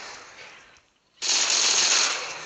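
Automatic gunfire from a weapon in the video game Blitz Brigade: a hissing burst of rapid shots breaks off briefly, then resumes as a louder, sustained stream of fire.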